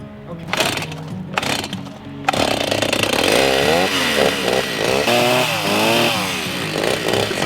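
A chainsaw revs and cuts steadily through wood at a campground, loud and close, its pitch rising and falling as it bites in, after a few short bursts at the start.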